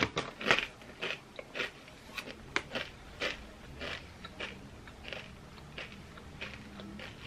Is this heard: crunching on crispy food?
yes